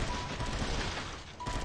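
Gunfire crackles in the Unkilled shooter game, a dense, fairly quiet spray of rapid shots with a continuous rattling texture and no clear gaps over the brief stretch.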